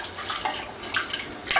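Liquid malt extract poured into a batch of light-coloured Mr. Beer West Coast Pale Ale wort while it is stirred: soft close splashing and sloshing with a few brighter liquid swirls, fairly quiet and steady.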